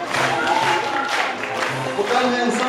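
An audience at a Christmas holiday concert of folk dance and vocal ensembles applauds continuously, a dense wash of clapping with crowd voices mixed through it.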